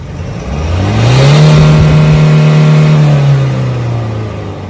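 A diesel engine revs up from idle as the accelerator is pressed during an exhaust smoke test, its pitch rising and holding steady for a couple of seconds before easing back down, close and loud.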